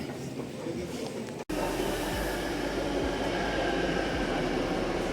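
Steady low rumble of a Bangalore Namma Metro train in motion, heard from inside with a brief dropout early on, no talking.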